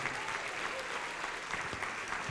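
A church congregation at a Portuguese-language worship service applauds for the name of Jesus with steady, continuous, full clapping from a crowd throughout.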